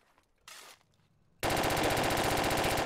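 Assault rifle fire in the military shooter Project Reality, a brief rustling noise followed by a loud, sustained rapid automatic burst lasting about a second and a half.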